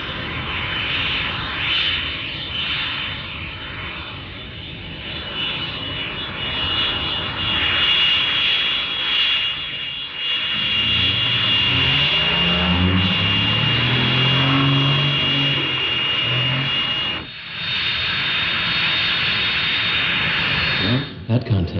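A North American F-86 Sabre jet taxis on a 1955 air force field, its engine a loud, steady whine and roar throughout, with a rising and falling rumble midway and a radio voice talking over it.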